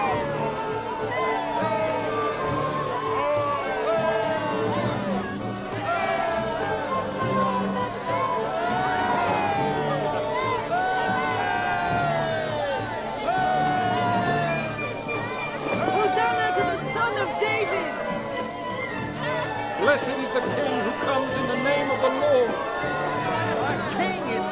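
A large crowd cheers and calls out together in praise, a continuous babble of many voices with shouts rising and falling, alongside a narrating voice over the top.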